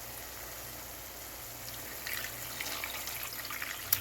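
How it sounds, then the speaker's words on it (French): Water poured into a pot of banana foufou on the stove, a soft splashing trickle starting about halfway through over a low steady background hum, brief and fairly quiet. "Je vais ajouter encore un peu d'eau."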